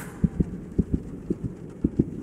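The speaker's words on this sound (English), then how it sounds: "I couldn't even hear him over the sound of my own heartbeat." A heartbeat from the horror game The Joy of Creation: Story Mode thumps loudly in paired beats, repeating at a regular, fairly quick pace over a low hum.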